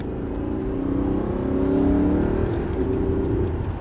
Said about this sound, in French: tu débraques, tu accélères, on va doubler la Mégane